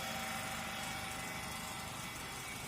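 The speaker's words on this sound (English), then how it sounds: "Now the direction of rotation of motor is in anti-clockwise direction, and the speed of the motor is 1496 rpm." A three-phase induction motor runs at about 1496 rpm, turning anti-clockwise on a lab test bench fed through a variac. It gives a steady, even mechanical hum that holds unbroken and fairly quiet throughout.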